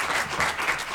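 Crowd at a school district board meeting applauds, a brief burst of dense steady clapping at moderate loudness.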